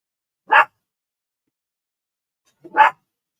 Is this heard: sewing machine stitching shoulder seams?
no